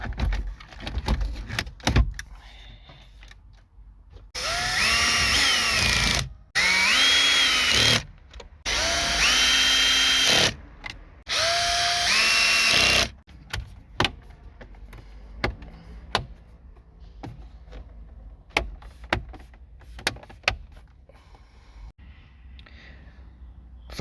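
A power drill drives screws back into a VW radio during reassembly, in four loud whirring bursts of about a second or two each, with short pauses between them, then quieter handling clicks.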